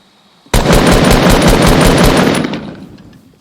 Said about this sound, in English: Fire the gun, then slip back down inside while I reload.